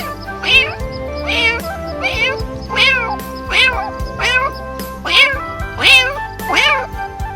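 A person imitates a kitten's meow with about eight short, high, rising-and-falling mews in a steady rhythm, close and clear with no other voices.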